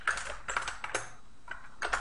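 Several quick bursts of keystrokes on a computer keyboard as a layer name is typed in Photoline photo-editing software, crisp and close, with short pauses between clusters of taps.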